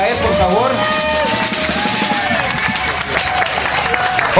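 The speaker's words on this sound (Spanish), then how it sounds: "un aplauso para él, por favor" Audience applause at an international fair, a steady wash of clapping from a crowd with voices and cheering mixed through it, continuous and fairly loud throughout.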